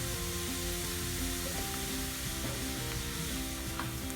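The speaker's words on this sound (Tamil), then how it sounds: "பச்சை மிளகாய், ஆனியன் 2 நிமிஷம் வதங்கினா போதும்." Green chilies and chopped onion sauté in hot oil in a pan, a steady close sizzle with faint stirring scrapes.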